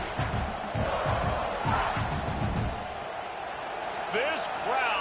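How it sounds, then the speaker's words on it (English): Stadium crowd roaring in an American football video game right after a first-snap sack, a loud sustained wash of cheering with scattered thumps and a commentator-like voice talking over it. "This crowd, full throat, splitting the eardrums and letting them know it's going to be a long day"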